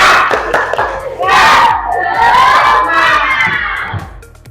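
Schoolchildren in an Islamic religious education class do the tepuk semangat clapping chant, a loud group of young voices shouting rhythmically together, close and energetic, fading near the end.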